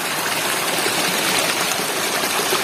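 River water rushing over rocks at Way Bernung waterfall, a dense, steady roar of flowing water heard close and loud without break.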